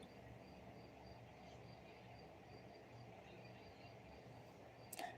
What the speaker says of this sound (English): I hear the crickets or the peepers, I'm not sure which. So loud outside.